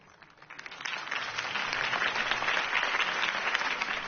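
Crowd applause in a Telltale Batman video game scene after a political campaign speech, a dense steady clapping that swells in over the first second and holds at moderate loudness with no talking over it.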